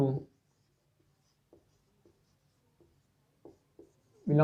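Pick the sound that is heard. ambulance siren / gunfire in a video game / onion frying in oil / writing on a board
writing on a board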